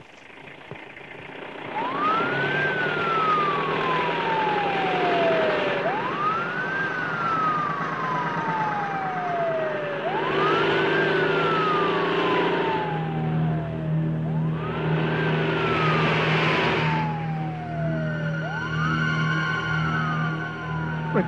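An ambulance siren in a Telugu film wails in repeated rising-and-falling sweeps, loud and continuous, over a low vehicle rumble with no voices.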